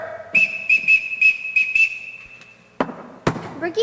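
A sharp, shrill whistle blown in a quick rhythmic series of short blasts, followed by a couple of loud bangs and a brief voice.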